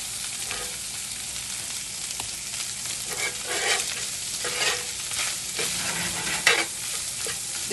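Breakfast sausage, egg and hash fry in a pan with a steady close sizzle, broken by scraping stirs and a sharp clack near the end, with no talking.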